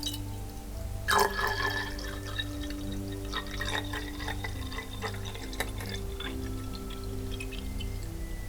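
Water poured into a glass as the first step of a homemade mouthwash, a short splashy pour with a few drips afterward, close and soft over a steady low background hum.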